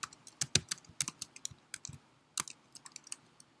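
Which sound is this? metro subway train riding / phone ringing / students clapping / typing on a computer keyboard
typing on a computer keyboard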